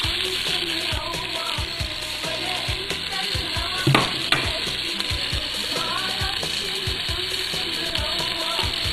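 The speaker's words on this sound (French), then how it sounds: "Je vais faire revenir mes petits oignons." Small onions frying in a thin layer of neutral oil in a large deep pot, a steady crackling sizzle throughout with a brief clatter of stirring near the middle.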